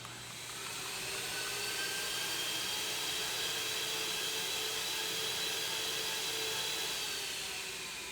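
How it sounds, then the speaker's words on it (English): MX2 central vacuum system running at full suction through its hose, a steady loud hiss and airy roar lasting throughout after a brief ramp-up. "let's turn on the system and see if it lifts that ball through the hose"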